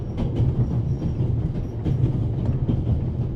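A train in the video game The Raven: Legacy of a Master Thief rolls along with a low, steady rumble and a rhythmic clatter of wheels over the track.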